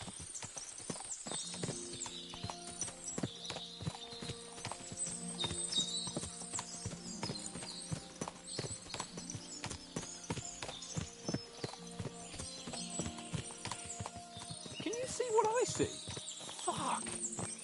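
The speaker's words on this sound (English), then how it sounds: "What a lot of horses!" Horses in Kingdom Come: Deliverance II, with repeated clip-clop hooves and occasional neighs at medium distance over steady background music, plus a speaking voice.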